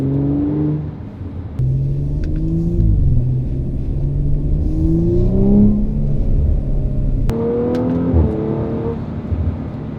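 Deep 2019 Audi RS5 coupe engine rumble with a couple of revs rising and falling, close and steady, punctuated by brief clicks, no talking.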